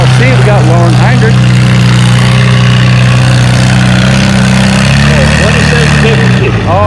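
Farmall C tractor engine pulling at a fall tractor pull in Lynden, a loud steady low drone with rising and falling pitch throughout, an announcer talking over it.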